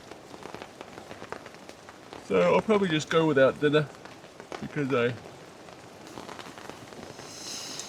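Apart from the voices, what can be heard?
rain falling on a tent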